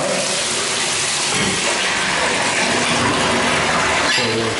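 A bathroom shower in an apartment runs with strong water pressure, a loud, steady hiss of spray hitting the tub and draining, close and unbroken throughout.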